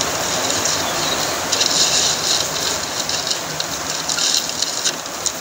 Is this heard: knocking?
no